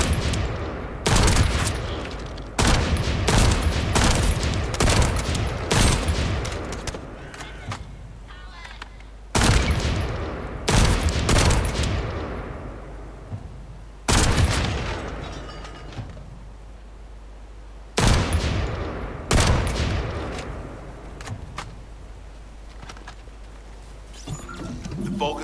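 Gunfire from The First Descendant video game, repeated heavy bursts of rapid automatic shots and booming impacts separated by brief lulls, loud and close, with a player's voice talking over parts of the action.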